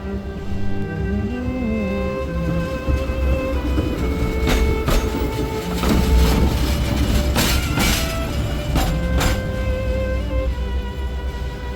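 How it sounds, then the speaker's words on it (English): Old trams in Bucharest rattle and roll past with a loud, continuous rumble, broken by metallic clatter, sharp wheel clicks and squealing tones, with no talk. "These older trams have character. They rattle, they roll"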